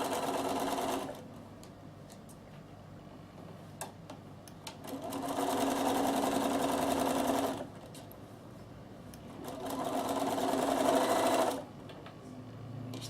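A Bernina sewing machine stitches around the armhole of a reversible vest in three steady bursts of whirring, each several seconds long, separated by quiet pauses, heard close up.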